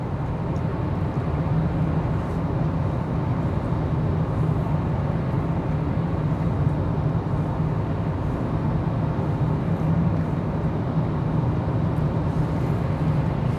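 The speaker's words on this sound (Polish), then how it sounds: "X2 jest nieco głośniejsza, mniej słychać powietrze opływające samochód aniżeli w X3, bardziej słychać opony, bardziej słychać jednostkę napędową" Cabin noise inside a BMW X2 28i M Sport xDrive on the move, a steady loud low rumble of tyres and engine with no voices.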